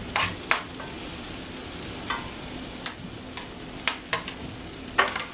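Onions, celery and carrots sizzle in a soup pot for ham and lentil soup, a steady low frying hiss broken by several sharp clicks and scrapes of stirring, close and fairly quiet with no talk.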